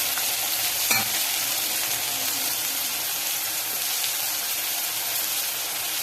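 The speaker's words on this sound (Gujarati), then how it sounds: "અહીંયા આપણે શેકાવા દેવાનું છે ટામેટાને" Chopped tomato sautéing in a pan for an egg masala curry, a steady broadband sizzle of frying with light stirring scrapes, close and continuous with no talking.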